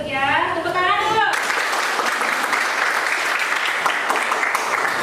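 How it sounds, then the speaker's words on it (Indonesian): A classroom group breaks into applause after a brief spoken line, steady dense clapping from many people up close, continuing evenly to the end. "Tepuk tangan dulu."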